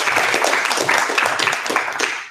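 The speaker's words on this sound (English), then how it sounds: "Let's give a round of applause for our panelists, please" Audience applauding panelists at a hiring and interview career talk, a steady wash of many hands clapping at close range that fills the whole moment and fades slightly near the end.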